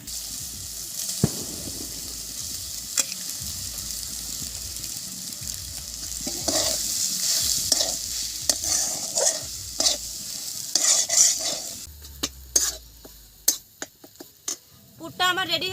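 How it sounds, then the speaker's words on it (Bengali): Grated eggs fry with spices in a pan, a continuous sizzle broken by repeated scraping and clacking stirs of a spatula, growing busier toward the end. "মশলাটা ভালো করে ভাজা হয়ে গেছে, এখন গ্রেট করে রাখা ডিমগুলো দিয়ে দেবো।"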